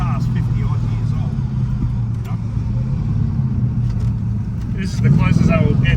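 A Ford XY GT Phase 3 HO, an old car, cruises along the road with a steady engine drone that swells louder near the end, while people talk inside the cabin over it.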